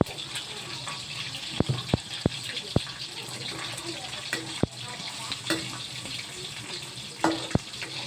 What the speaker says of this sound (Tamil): இந்த பால் கொஞ்சம் ஊற்றிக்கிறேன்